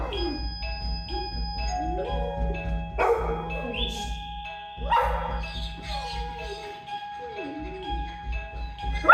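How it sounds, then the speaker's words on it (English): Dogs barking in short repeated bursts over a steady low hum, with a few whines between the barks, fairly close. "So when they start barking, this is great."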